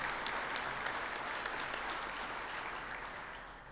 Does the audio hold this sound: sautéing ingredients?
no